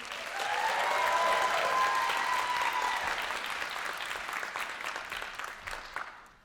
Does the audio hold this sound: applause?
yes